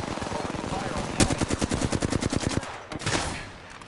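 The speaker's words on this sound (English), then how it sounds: "Getting shot at." Rapid automatic gunfire in Apex Legends, a close, loud burst of evenly spaced shots lasting about a second and a half, followed by a couple of scattered single shots and fading noise.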